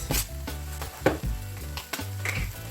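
Onions tossed into cabbage frying in a pan give a close, steady sizzle broken by sharp clanks and scrapes of the utensil against the pan, with no talking.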